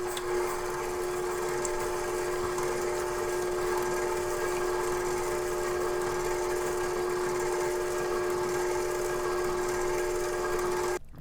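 An electric mixer runs steadily on low speed, beating brown sugar and butter for a plum cake, a constant whirring hum with a sustained tonal whine that holds for about eleven seconds before cutting off.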